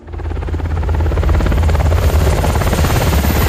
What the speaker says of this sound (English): First time seeing a helicopter.